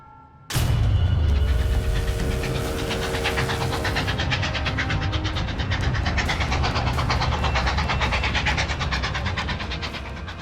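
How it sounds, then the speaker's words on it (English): A packed train speeds along on its way south, starting with a sudden loud onset and then a steady rumbling roar with rapid rhythmic clatter of wheels on rails and a high whistle-like tone early on. "A packed train speeds on its way south"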